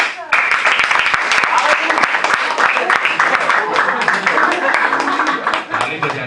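Audience applause for the winner fills a youth day event hall, steady dense clapping sustained throughout with crowd noise and voices mixed in.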